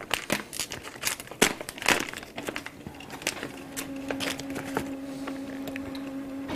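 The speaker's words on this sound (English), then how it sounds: "So whilst it's doing that I'm going to open this package here." Plastic packaging crinkles and tears as someone opens the package holding an Epson printer's print head, with sharp crackles up close followed by a steady mechanical hum from the working printer.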